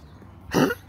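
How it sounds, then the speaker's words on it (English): A dog with a bad, persistent cough lets out a single harsh, loud cough close by after a moment of near silence. "He has a really bad cough and he can't stop it."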